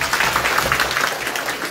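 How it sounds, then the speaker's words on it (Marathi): Crowd applause at a community Raksha Bandhan ceremony in Anjansingi village: dense, steady clapping from many people that holds evenly throughout the short stretch. "सर्वांनी भाऊंसाठी एक टाळ्या वाजवायचे आहेत."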